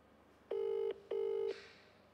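Two steady electronic ring tones from a phone line, each about half a second, separated by a short gap, clear and close, as an outgoing call rings.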